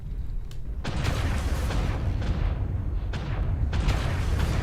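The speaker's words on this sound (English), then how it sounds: "There's all the explosions and stuff going on." Several deep booms and blasts go off one after another in the video game MechWarrior Online, loud and close, over a constant rumbling din.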